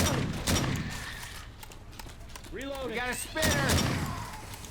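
In Left 4 Dead 2, a shotgun fires as a few loud, sharp blasts, one near the start and another near the end. Someone talks excitedly in Thai among game noises and chirping sounds.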